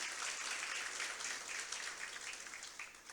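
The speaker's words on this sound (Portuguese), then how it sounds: "Uma salva de palmas para eles." Applause from a congregation at a church service, a dense, steady patter of many hands clapping that stays fairly loud throughout and eases slightly toward the end.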